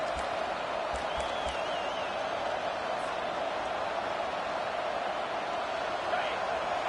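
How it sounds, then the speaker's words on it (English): A college football stadium crowd at Louisville vs Cal roars steadily behind the defense during a red-zone stand, a dense, continuous wash of cheering throughout. "The crowd getting behind this defense as they try to get a stop in the red zone."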